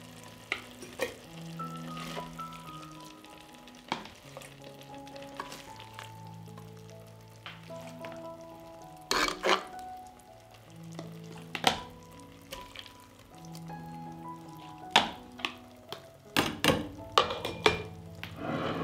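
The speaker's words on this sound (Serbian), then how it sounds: "I ovako vrelu papriku sipam u sterilisane tegle." Hot pepper relish is spooned out of a pot into sterilized glass jars, with a series of close scraping and knocking clinks, some louder, under soft background music and no talk.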